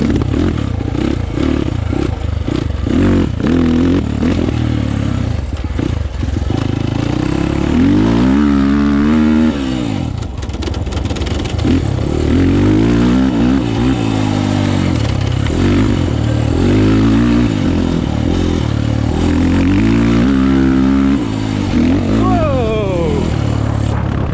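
RR300 and KT250 dirt bike engines rev and rasp continuously while riding, loud and close with shifting pitch, clatter and wind buffeting, and a voice talking over the engine noise.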